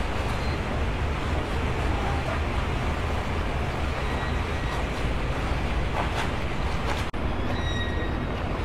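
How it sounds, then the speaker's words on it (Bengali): Water splashes and laps steadily against a small hired tour boat on a sunny day in Bangkok, a continuous broadband wash with wind-like hiss, fairly close and unbroken, with no talk. "ছলাৎ ছলাৎ শব্দ শুনতে পাচ্ছি।"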